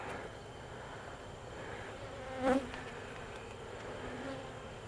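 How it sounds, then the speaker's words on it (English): A small swarm of bees hums steadily around an open hive, a dense continuous drone close by with one brief louder pass midway. "See all these bees? These are the Tiny Swarm bees."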